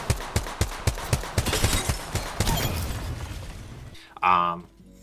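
Team gunfire in the Apex Legends battle royale game, a steady run of sharp rapid shots with crackling impacts, loud and close, ending in a brief pause and then a short burst of another noise.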